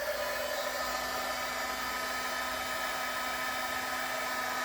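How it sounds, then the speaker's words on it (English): Heat gun running in a crafting session, a steady close whooshing blower with a constant whine, unbroken and alone for the whole stretch. "So I'm going to turn on the heat gun."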